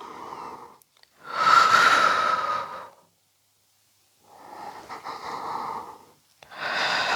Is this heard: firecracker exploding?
no